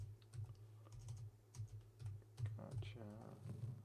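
Quick, uneven keystrokes clatter on a computer keyboard close by, faint and irregular, with a voice murmuring briefly near the end.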